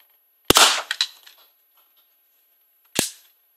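A modded Nerf Diamondista blaster fires messenger darts over a chronograph: two sharp, close pops about two and a half seconds apart, the first followed by brief rattling clicks.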